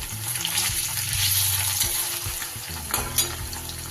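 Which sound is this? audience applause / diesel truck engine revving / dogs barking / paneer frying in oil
paneer frying in oil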